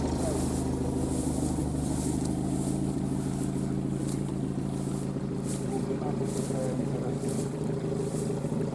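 A car drives slowly over rough, unfamiliar terrain, its engine giving a steady low drone with rumbling and rattling throughout, while people talk over it.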